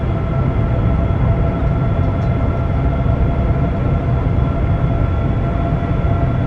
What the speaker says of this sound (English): We're being passed by a Pendolino.